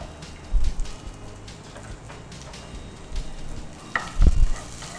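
Green chillies frying in a pan for a chicken dish, a soft sizzle with a few louder bursts as they are stirred or tossed, close and without talk.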